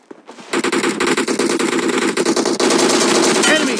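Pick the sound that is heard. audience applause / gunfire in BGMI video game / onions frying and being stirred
gunfire in BGMI video game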